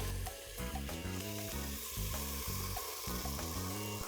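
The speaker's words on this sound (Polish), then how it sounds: "Kiedy całość zdąży się już lekko podsmażyć" Steady sizzling of vegetables for an Asian vegetarian soup frying in a pot, continuous and close, with a low harmonic tone running underneath throughout.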